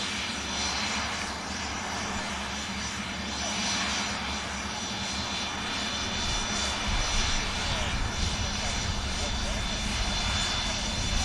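An airliner just in from Lanzarote rolls out after touchdown at a busy airport, its engines a steady, broad roar that holds fairly constant throughout.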